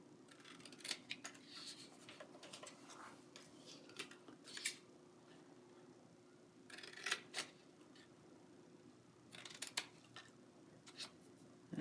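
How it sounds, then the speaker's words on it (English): Scissors trimming paper for a 12x12 scrapbook page layout, a series of soft, close snips in small clusters over a quiet room hum, with no talking. "And I turn it and trim this with my scissors."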